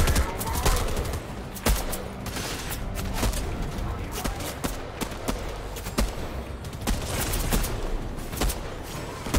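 SMG fire in the video game Fortnite, dense rapid bursts of shots hammering almost continuously, loud and close, with a voice occasionally underneath.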